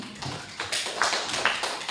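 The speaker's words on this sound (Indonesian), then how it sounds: "Tepuk tangan untuk teman-teman." Applause at a high school gathering, a scattered patter of clapping hands with a few sharper claps standing out, moderately close and with no voices over it.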